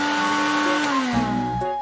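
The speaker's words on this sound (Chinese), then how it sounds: "榨汁机搅拌" Countertop juicer blender whirring as it blends yellow peach, banana, pineapple and mango, a steady motor drone with a tonal whine that dips in pitch near the end as the load changes.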